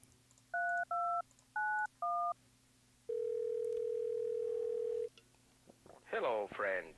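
A telephone number is dialed in the Thimbleweed Park adventure game: four crisp keypad tones in quick succession, then a long steady ringing tone, after which a recorded voice starts to speak.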